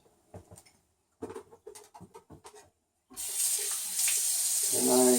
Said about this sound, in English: I pass a little water on the rubber seal